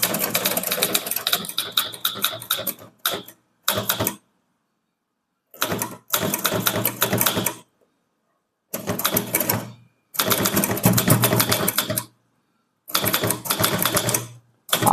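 Typewriter keys clatter in fast rapid bursts of typing, close and distinct, separated by short silent pauses, as English text is typed on a typewriter with no voices.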